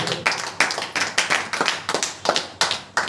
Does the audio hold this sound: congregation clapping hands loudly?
yes